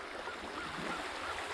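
Rain-swollen creek running high after heavy rain, a steady broadband rush of flowing water close by with a faint wind-like hiss and no voices.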